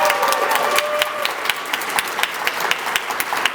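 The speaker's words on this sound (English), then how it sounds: "And a big round of applause for Anna Rotsliff" Dense applause from an audience at a psychiatry and behavioral sciences residency graduation and awards ceremony, many hands clapping steadily and close by for the whole stretch, with a voice briefly audible at the start.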